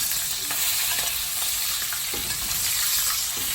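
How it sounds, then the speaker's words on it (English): NY strip steak fries in a pan with extra oil poured over it, giving a steady, loud, close sizzle with a constant crackling hiss and occasional faint spatters throughout. "I'm going to braise it a little bit more with a little bit of extra oil"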